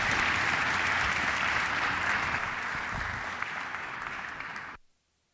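Audience applause at an OAS live event after a panel exchange, a dense, steady round of clapping that stays loud, then tapers and cuts off abruptly near the end.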